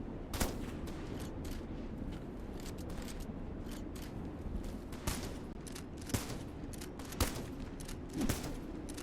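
Scattered bursts of gunfire crack out while shooting at an enemy in the video game Metal Garden, some shots close together, others isolated, over a low, rumbling game background at modest volume.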